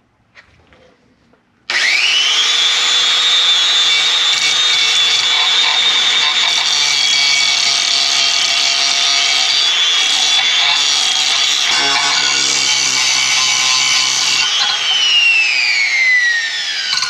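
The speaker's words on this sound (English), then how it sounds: "I got a standard old grinding wheel on" A standard bench grinding wheel shaping a steel knife blank for a homemade hunting knife, a loud continuous high grinding whine that starts abruptly and holds steady for about fifteen seconds before tapering off.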